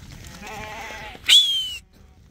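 A young goat kid bleats close by, first a wavering nasal call and then a sharp, louder high cry that trails off, with light outdoor background noise.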